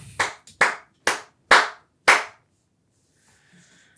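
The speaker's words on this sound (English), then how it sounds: "Applause." A handful of people clap in a podcast studio, five sharp separate bursts spaced about half a second apart, each a crisp flurry of hands that dies away quickly, then near silence with faint rustling.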